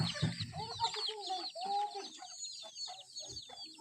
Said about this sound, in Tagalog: ang dami nating manok